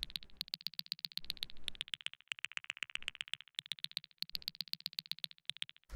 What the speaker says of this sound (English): we have this click